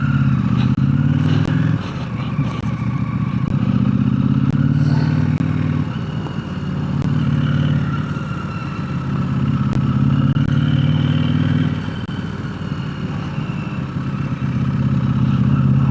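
Motorcycle being ridden outdoors, its mid-pitched engine droning steadily for the whole stretch and swelling and easing in long waves as it speeds up and slows, with light clatter on top.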